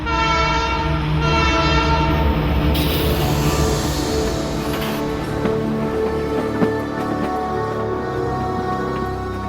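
A Canadian Pacific Railroad train in British Columbia's Kicking Horse Valley, a loud sustained horn chord over the rolling rumble of rail cars, steady and near throughout.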